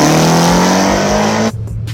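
A drag race car's engine roars loudly at launch with a steady, tonal drone, then abruptly cuts out and stumbles into sputtering, uneven bursts.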